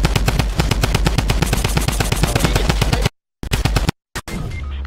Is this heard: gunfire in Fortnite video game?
yes